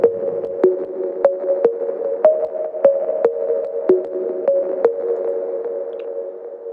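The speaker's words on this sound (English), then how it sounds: "The next sound I have here is the pluck that you hear." A synth pluck built from a plain sine wave plays a steady repeating pattern of short clean notes, each with a sharp attack, over a sustained tone in a chillout track, loud and alone without voices.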